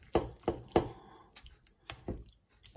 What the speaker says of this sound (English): Give it a bit of a stir.